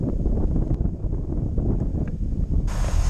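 Wind gusts across an open disc golf course hole, a steady, full rumble of air buffeting the microphone that persists throughout, with a brighter hiss rising near the end.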